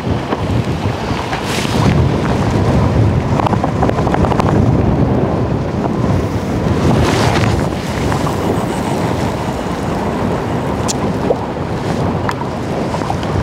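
Strong, gusty wind buffets the microphone in loud roaring surges over a steady rush of water, with no voices.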